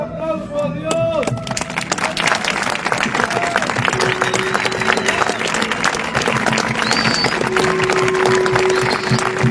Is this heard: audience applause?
yes